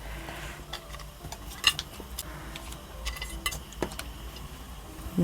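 Blue crabs go into a pot of boiling doenjang crab stew. Light clinks and clatters of utensils and shells sound over the quiet bubbling of the pot.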